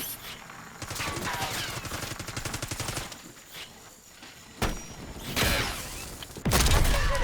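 Rapid bursts of automatic gunfire in Call of Duty, dense repeated shots in a loud stretch, then a pause and a few heavier blasts and impacts close up.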